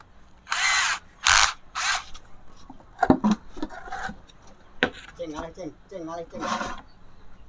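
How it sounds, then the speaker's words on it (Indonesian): Three short, loud bursts of a power drill boring holes near the edge of a plastic drum lid in quick succession, followed by a person talking and some light handling noises. "Ini tutupnya drum tadi, lalu kita lubangi pakai bor ya guys."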